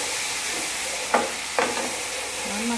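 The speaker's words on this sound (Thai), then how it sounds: "ละลายน้ำตาลก่อนค่ะเคี่ยวน้ำตาลไป" Sugar simmers and bubbles in a pan under a close steady hiss, with two sharp scraping strokes of a utensil stirring it partway through.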